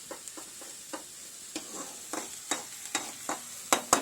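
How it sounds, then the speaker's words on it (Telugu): Mushrooms fry in a pan for a masala curry, a faint background sizzle broken by sharp, irregular clinks and scrapes of a spoon stirring, close by and quiet. "మనకి గోల్డెన్ కలర్ వచ్చేదాకా దీన్ని బాగా వేయించుకోవాలి."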